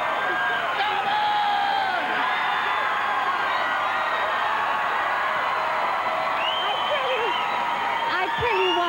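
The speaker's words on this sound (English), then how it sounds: "Let me hear a crazy crowd." A large crowd at an awards show roars and cheers continuously, a dense sustained wall of voices and whoops that stays loud throughout.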